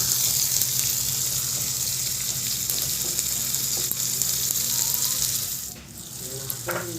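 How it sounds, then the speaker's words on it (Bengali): Onion, tomato and coriander leaves frying for a cauliflower, potato and paneer curry: a dense, steady hiss close by that eases slightly near the end, with a low hum underneath and a few small clinks. "দিয়ে দিলাম পেঁয়াজ এবং টমেটো এবার ভালো করে একটু ধনিয়া পাতা দিয়ে ভেজে নেব"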